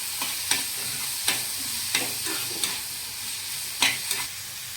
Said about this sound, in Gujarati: આપણે આને બહુ નહીં સાતળવાનું, થોડું કચરું સંતરાઈ જાય એટલે ગેસને બંધ કરી દઈશું